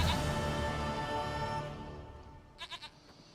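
A goat in The Witcher 3 gives a short run of bleats that trails off, followed by a quick trio of pulsed bleats near the end, with no talk over them.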